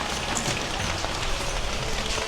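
Rain pours steadily onto a home garden, a dense, even hiss of drops hitting leaves and surfaces close by, with no voices over it.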